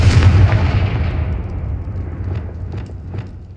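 A Confringo fire spell detonates in Hogwarts Legacy as one loud, deep booming blast. A rumbling tail follows and slowly fades, with no talk over it.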